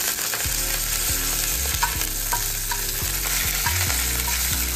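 Five-spice seeds, asafoetida and green chillies sizzle in hot oil, a loud continuous crackling hiss held evenly throughout, with background music underneath.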